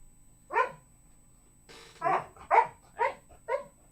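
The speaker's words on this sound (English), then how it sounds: "He's just laying there barking." A dog barks five times, one bark alone and then four in a steady run, fairly close and clear against a quiet background.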